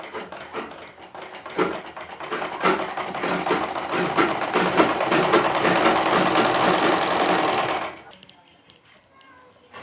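A sewing machine runs steadily for about eight seconds, stitching the lining onto a blouse sleeve, then stops, leaving quieter room noise.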